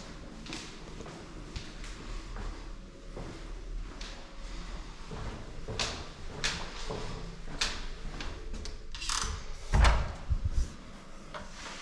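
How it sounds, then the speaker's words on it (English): Heavy fire doors in a Lampeter University accommodation building bang and clatter repeatedly as they swing open and shut, a string of sharp knocks and thuds ending in one louder slam near the end, with footsteps and room noise between them. "There's fire doors, so they're quite loud"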